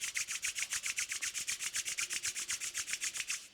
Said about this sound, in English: Rub your palms together to create some heat.